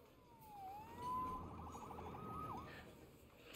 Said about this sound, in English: Saved by the siren.